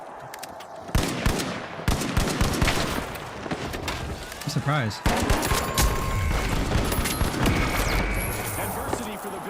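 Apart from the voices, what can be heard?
explosion and gunfire in a video game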